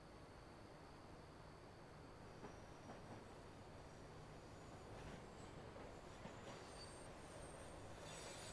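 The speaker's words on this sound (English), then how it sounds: "There's another train coming." A train rumbles steadily past in American Truck Simulator, a broad continuous roar with faint wheel squeal rising near the end, heard from a truck in a Canada driving setting, with no talk.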